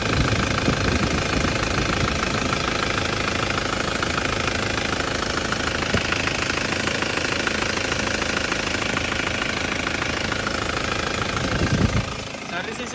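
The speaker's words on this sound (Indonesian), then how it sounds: "mesinnya tanpa pincang ya, tanpa pincang sama sekali" A 2009 Isuzu Panther Grand Touring engine idles smoothly and steadily, a close, continuous clattering rumble that carries on evenly while someone talks over it.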